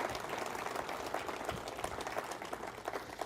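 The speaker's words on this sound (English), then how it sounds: "would you give them a round of applause because they very much appreciate their ministry" An audience at a Christian ministry gathering applauds steadily throughout: a dense, faint wash of many hands clapping at a distance, with no talk over it.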